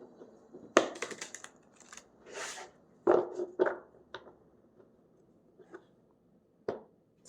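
Tarot cards being shuffled by hand, with several crisp riffling bursts and soft slaps spread across the clip, close and fairly quiet, separated by pauses, with no talking.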